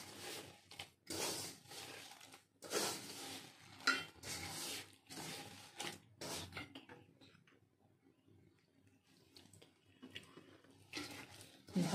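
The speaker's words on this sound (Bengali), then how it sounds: "ভালো করে মেখে নিচ্ছি।" Batter of mashed banana, semolina, flour and sugar being mixed by hand for malpua, a soft, quiet series of sticky squelches and scraping stirs in an irregular rhythm, close up, with no talking.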